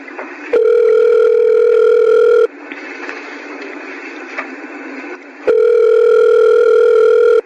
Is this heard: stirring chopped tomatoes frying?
no